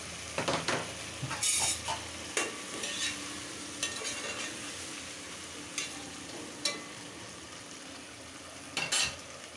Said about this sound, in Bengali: কচুটা দিয়ে দিলাম একসাথে কষানো হোক